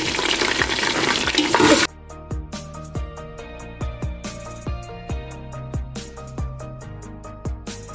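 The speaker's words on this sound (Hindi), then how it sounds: "जलवतनी जलफर डाल के इसको अच्छी तरह भून लिया है" Mutton paya frying with ginger paste, mace and nutmeg, starting with a loud hissing sizzle that gives way to sharp, rhythmic scraping taps of stirring.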